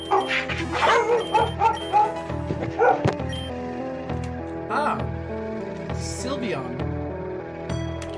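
Dogs barking in the Pokémon Reborn video game, a rhythmic series of chiptune-style yips and barks repeating through the clip, with a voice talking over the game sounds.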